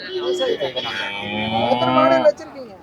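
A cow, likely a Holstein Friesian, lets out one long, loud, close moo at the Erode cattle market in Tamil Nadu, rising and falling before it cuts off.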